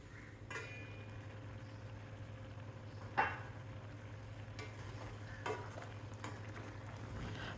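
Tomato and tamarind water simmer together in a pan for tomato pickle, giving a steady low bubbling and sizzle broken by a few sharp stirring scrapes. No one speaks.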